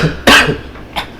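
A person coughs indoors in a home studio, a sharp loud close cough followed a moment later by a second, smaller cough, with no talking.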